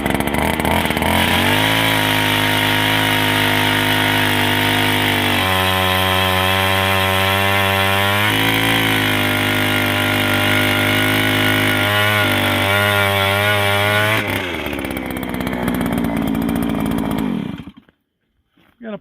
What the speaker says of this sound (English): We got approximately 11 inches of ice today, so it's easy drilling.